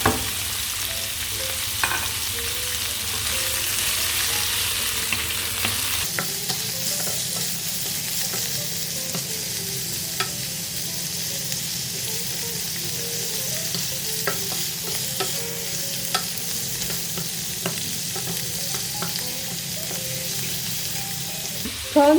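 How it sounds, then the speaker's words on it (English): Prawns stir-fried over high heat in a pan for spaghetti with roasted bell pepper feta sauce, sizzling steadily throughout with occasional scraping stirs, close and moderately loud, no talking. "quickly stir fry them on both sides until they are nice and red"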